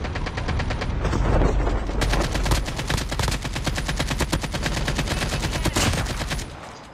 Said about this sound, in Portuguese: Tô trocando tiro aqui.